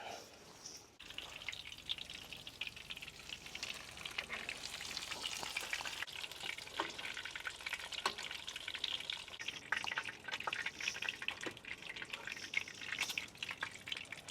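Pork tonkatsu cutlets frying in hot oil until golden brown, a dense continuous crackling sizzle with scattered pops, close and steady throughout, no talking.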